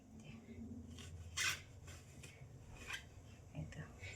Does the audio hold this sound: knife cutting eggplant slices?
yes